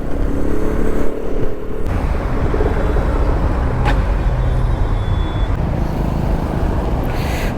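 Steady, loud roar of road traffic near India Gate, Delhi, heard from a motorcycle, with engines droning close by and a brief sharp hiss partway through.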